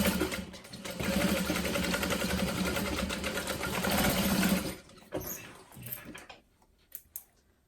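Sewing machine stitching a row near the seam allowance on a Boronia Bowler Bag, a steady close mechanical whir for about five seconds, then stopping, followed by a few soft handling clicks.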